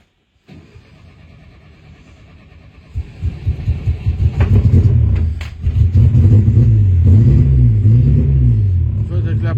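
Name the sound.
Renault 16 engine restarting after 20 years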